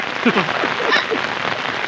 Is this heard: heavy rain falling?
yes